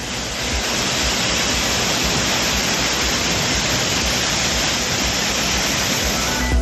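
The Courtallam waterfalls pour in flood after heavy rain, making a dense, steady roar of falling water that stays loud and unbroken throughout, with no voices.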